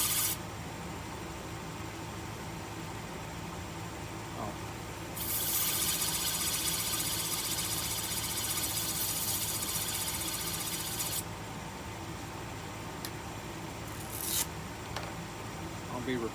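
Sandpaper smooths the edge of a wooden bowl, a steady close rubbing rasp that continues throughout and swells louder in a longer stretch in the middle.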